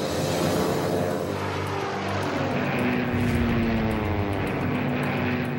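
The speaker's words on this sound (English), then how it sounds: "the first of over 350 Japanese dive bombers, fighters, and torpedo planes sweep out of the Hawaiian sky" Japanese dive bombers, fighters and torpedo planes sweep overhead in a Hawaiian sky, their propeller engines a loud, continuous roar that swells and shifts in pitch as aircraft pass, with no voices.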